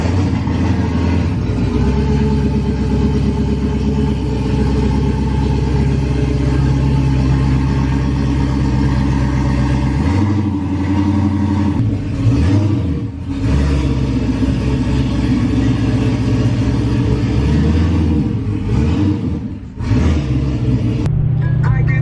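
A Duramax pickup truck towing a cow trailer rumbles steadily along the road, a deep continuous drone with brief dips as the load shifts; occasional voices are heard faintly inside the cab.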